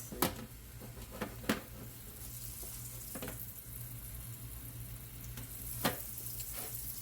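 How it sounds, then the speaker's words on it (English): Hot grease heating in a pan on a stovetop burner, a faint, steady sizzling hiss with a low hum underneath and a few brief sharp pops and clicks scattered through. "Got my hot grease going."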